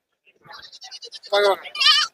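Goats bleat close by at a busy livestock market, first a run of short stuttering calls, then two longer, louder wavering bleats.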